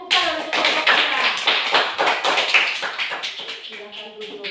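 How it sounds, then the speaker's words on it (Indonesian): A classroom of students claps for a student group after a presentation, loud, fast and continuous for several seconds, with voices mixed in. "Mari kita beri tepuk tangan untuk kelompok"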